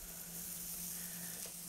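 Fish frying in a pan, giving a faint, steady sizzling hiss with a low hum underneath and no talking.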